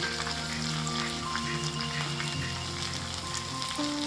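Spices and green banana kofta curry frying in a pan with ginger paste, chilli powder and coriander, giving a steady close sizzle with soft crackle and faint stirring throughout.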